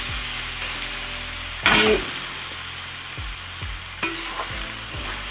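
Mixed vegetables for a Bengali panchmishali sabji sizzle steadily in a pan while a spoon scrapes through them in repeated strokes, with one louder scrape partway through and a voice speaking briefly.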